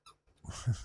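A dog growls low in a room where a ham radio show is being recorded, a short close throaty rumble with a bit of breathing, heard alone.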